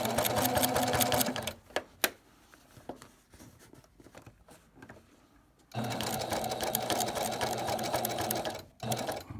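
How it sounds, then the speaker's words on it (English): A sewing machine runs steadily while stitching binding onto a quilt with the needle set to stop down, humming close by, pausing in the middle with small handling taps, then running again and stopping short near the end. "I have my machine set in needle down mode"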